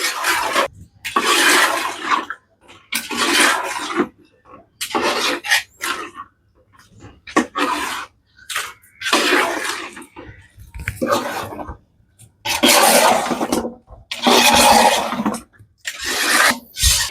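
A woman mixes tiger prawn pickle by hand, producing repeated rough, wet rubbing and squelching strokes in bursts of a second or two with short pauses between. Fairly loud and close, with no talking.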